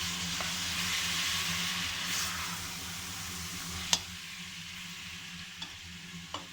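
Meat for a vegetable oven kebab searing in a pan, a steady broadband sizzle running throughout with occasional sharp pops and crackles near the end, loud and close with no voices.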